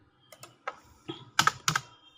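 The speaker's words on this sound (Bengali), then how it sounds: "বের হয়ে ক্লোজ করে আমরা লেখার ট্রাই করব" Keys on a desktop or laptop computer keyboard are pressed in a short, uneven burst of about eight clicks, close and clear with no voices.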